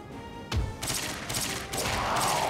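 A burst of gunfire in the Wii video game Resident Evil: The Darkside Chronicles erupts, then continues as a sustained, echoing barrage of shots, loud and close.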